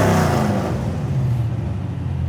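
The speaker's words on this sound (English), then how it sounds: "driving something like this 1971 Chevy Nova" Restomod 1971 Chevy Nova V8 engine revving and accelerating, a loud close roar that rises then settles into a steady lower drone, with no talk over it.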